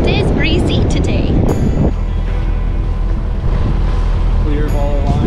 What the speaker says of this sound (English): It is breezy today.